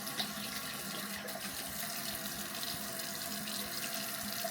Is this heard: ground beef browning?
no